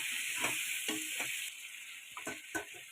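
Potatoes and tomatoes frying in oil in a pan for a home-style fish curry, a steady hiss of sizzling broken by soft scraping stirs, close and fairly quiet.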